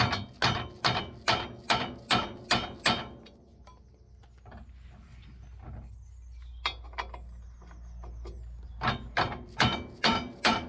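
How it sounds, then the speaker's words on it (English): A torque hammer taps a mower after the blades are swapped: a quick run of about eight sharp, evenly spaced hammer strikes, a quieter stretch with scattered small knocks, then another rapid burst of blows. "Quick tap with the torque hammer."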